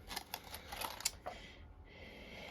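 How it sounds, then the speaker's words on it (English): A mini cut and emboss machine running paper through border dies, giving a brief run of quiet, close mechanical clicks and taps that fades into faint steady background hiss. "I'm going to use my mini cut and emboss machine, and we're going to use the Borders dies"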